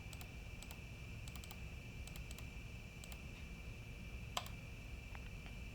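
Keys tapped on a computer keyboard while entering a search into lighting console software, a few soft, sparse clicks in short bursts over a steady faint background hum.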